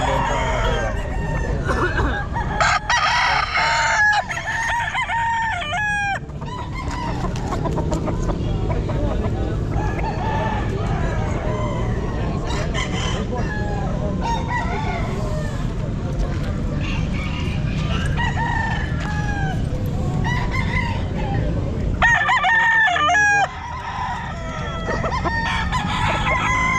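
Gamecock stags crowing repeatedly at a Bocaue pet market, several loud cock-a-doodle-doo calls with clucking and crowd murmur of voices around them.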